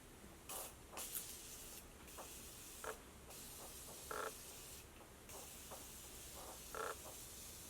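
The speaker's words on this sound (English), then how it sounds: "I'm gonna go in with the Morphe Continuous Setting Mist" A Morphe Continuous Setting Mist aerosol can sprays in a series of short hissing bursts, close and quiet, spaced irregularly over several seconds against a soft background hum.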